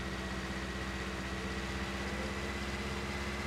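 A tractor engine in the Farming Simulator 19 video game, out chopping corn, holds a steady low idling drone with an even mechanical hum and no talk over it.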